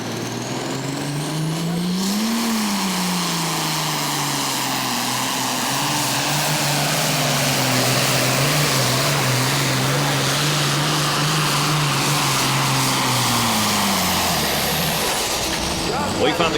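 A super farm class pulling tractor with a turbocharged engine roars down the track at a 2019 tractor pull in Rockwell, Iowa. The engine is loud and continuous, its pitch rising and falling steadily for over fifteen seconds.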